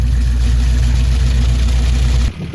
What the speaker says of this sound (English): got it running and idling